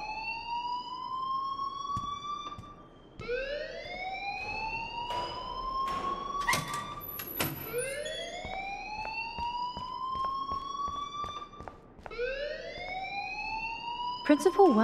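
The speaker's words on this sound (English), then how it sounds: "please turn off that alarm since that's your job." School fire alarm in the video game Life is Strange, wailing in repeated rising sweeps about every four seconds, loud and continuous, with a brief high beep and voices underneath.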